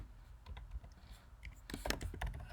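Computer keyboard keys clicking as someone types Angular template code, with scattered light taps that thicken into a denser burst of keystrokes near the end, close and fairly quiet.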